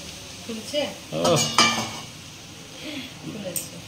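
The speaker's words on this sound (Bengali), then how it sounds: "লুচিগুলো এক এক করে ভেজে নিই।" Luchi flatbread, rolled from a blend of wheat flour and maida, dropped one at a time into hot oil in a home kitchen, giving soft sizzling bursts with a few utensil clinks and stirring scrapes, fairly quiet.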